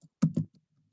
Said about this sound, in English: And then you're going to type the word